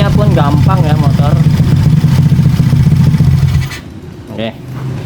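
A motorcycle engine revs hard and close, its pitch rising and falling in quick bursts for a few seconds before dropping abruptly to a quieter, steady idle.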